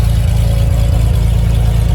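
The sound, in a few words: Cessna 210 aircraft engines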